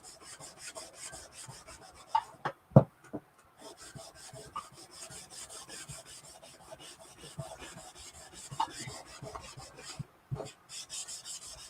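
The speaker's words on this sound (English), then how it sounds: "I'm just laying down some wax. I'm just kind of buffing it in." Steady rubbing strokes of a cloth or brush buffing wax into a small beaded wooden farmhouse sign, a soft continuous scrubbing texture with a few light knocks, close and with no talk.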